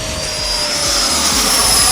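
An RC AeroFoam Albatros L-39 jet with a 105mm electric ducted fan cruising at half throttle, a loud steady whine and rushing roar that swells slightly as it passes, heard outdoors.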